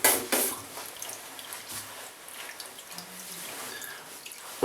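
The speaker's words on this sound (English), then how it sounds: "Right, so I'm going to wash all this stuff off," Tap water running and splashing into a sink while shaving paste is rinsed off a face, a steady hiss with a few louder splashes near the start and end.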